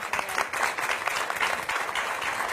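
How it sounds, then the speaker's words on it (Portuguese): A TV studio audience applauds a show guest, with steady dense clapping from many hands that holds at a moderate level throughout, without talk over it. "Peço desde já um forte aplauso para a Maria Oliveira"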